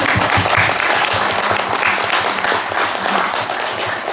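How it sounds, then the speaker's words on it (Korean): Steady audience applause fills the room at a film screening's guest Q&A in a Gangneung independent cinema, dense and even throughout without any voices. "박수 한번 부탁드립니다"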